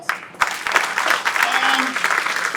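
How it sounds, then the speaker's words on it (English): An audience at the DART Silver Line UTD station opening applauds the DART and D. Lambert teams, steady crowd clapping with a few voices calling out. "let's give Dart's team with D. Lambert's team all a very strong round of applause"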